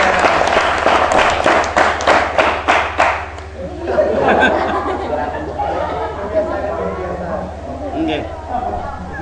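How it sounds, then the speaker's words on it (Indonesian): A short burst of audience clapping at a village public speaking training session lasts about three seconds, then gives way to crowd chatter and talk. "Tepuk tangan buat kita semuanya."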